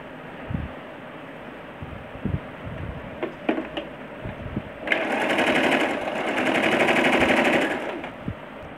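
Sewing machine stitching the lining of a handkerchief-cut skirt, a steady close whirring run of about four seconds after a few faint taps and handling sounds.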